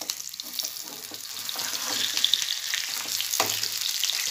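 Vanjaram fish pieces fry in oil with a close, continuous crackling sizzle that grows slightly louder, punctuated by a couple of soft pan knocks.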